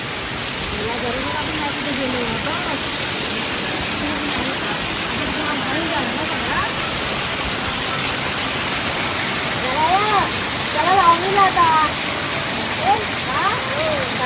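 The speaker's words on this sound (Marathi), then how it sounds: "आमच्या घराच्या समोर पूर्ण वॉटरफॉल झाला बघा इकडे पूर्ण खतरनाक पाऊस पडतोय" Heavy Konkan monsoon rain pours down in front of a house, with water cascading like a waterfall in a constant, loud, broadband roar. Voices talk over it, growing busier near the end.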